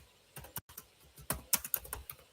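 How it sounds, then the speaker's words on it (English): Close-up typing on a computer keyboard, a quick irregular run of crisp key clicks with short pauses between bursts and nobody speaking. "I'm just typing"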